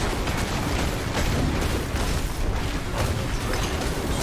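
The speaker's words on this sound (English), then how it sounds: "It's crazy when you see the explosions." Explosions from a Were-Bomber build in Diablo 4 erupt during a boss fight, a dense continuous roar of overlapping booms and blasts with no clear gaps, loud and noisy throughout.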